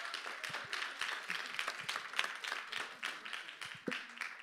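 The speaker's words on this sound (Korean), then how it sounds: "큰 박수 한번 부탁드리겠습니다" A church youth congregation claps through a Sunday service, a light, steady patter of many hands heard from a distance at moderate level. No voices are heard.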